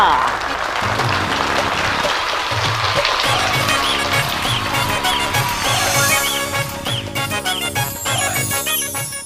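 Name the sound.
audience clapping and applause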